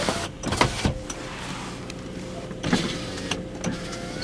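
A power window on a 2002 Nissan Maxima whirs as its motor drives the glass, a steady electric hum broken by clunks and bumps from the door, heard up close with no talking.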